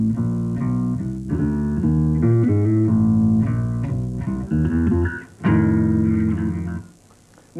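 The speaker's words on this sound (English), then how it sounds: "And at the front of the bass, you get a real bassy sound." Plucked toward the neck end, an electric bass gives a round, deep, bassy tone in a flowing run of notes and sustained pitches, heard alone and close.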